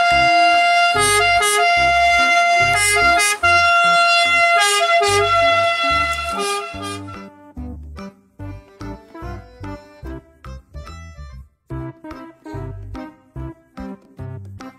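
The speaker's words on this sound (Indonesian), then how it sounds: "Mobil ambulans." A toy siren wails loudly for several seconds, then gives way to a choppy sequence of short electronic beeps and tones.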